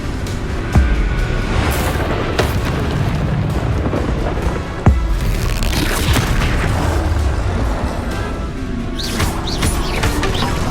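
Bombarda explosion spell cast in Hogwarts Legacy on PS5 during a haunted Hogsmeade shop quest: two deep booms several seconds apart over a steady ambient bed with faint birdsong.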